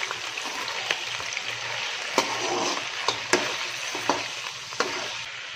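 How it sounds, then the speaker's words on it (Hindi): Chicken stir-fried in a pan for a restaurant-style chicken kadai gives a steady sizzle, with scattered clicks and scrapes of stirring, close and clear, no talking. "इसको तब तक हम भूनेंगे जब तक हमारे चिकन का कलर नहीं चेंज हो जाता।"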